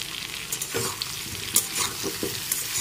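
Pumpkin and boiled chickpeas fry with turmeric, Kashmiri chilli powder and green chillies in a pan, a soft steady sizzle punctuated by several brief scraping stirs.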